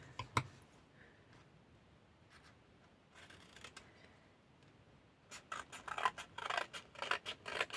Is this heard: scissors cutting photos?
yes